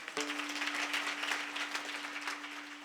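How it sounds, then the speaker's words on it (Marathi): Audience clapping at a Marathi kala kirtan, a devotional sing-along gathering: dense, steady applause for about three seconds over a sustained harmonium-like drone, with no talk. "टाळी वाजवा बरं एकदा"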